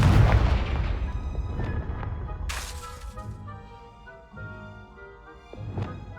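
The Confringo fire blast spell explodes in the video game Hogwarts Legacy with a heavy boom up front. A long rumbling decay follows, broken by a bright shattering crack and a few smaller thuds.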